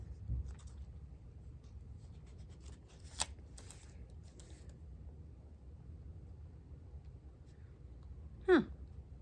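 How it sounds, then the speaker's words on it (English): A fine 0.5 pen scratches across Kokuyo paper in short, quiet strokes close to the microphone, with soft rustles and a brief sharper squeak near the end. "Let's see how it writes on Kokuyo paper."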